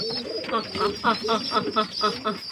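Domestic pigeons cooing nearby in a steady rhythmic series of throaty, pulsing coos, each call repeating at an even pace.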